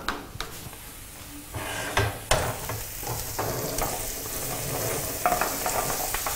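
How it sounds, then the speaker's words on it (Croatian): Steady sizzling of parsley and garlic frying in a pan, with a few sharp stirring clatters and scrapes throughout, close and fairly loud. "Samo kratko zapržiti, kojih 15-20 sekundi, ne duže od toga."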